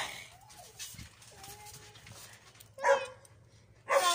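A dog barks in two short, loud bursts near the end, preceded by faint whimpering and quiet background sounds.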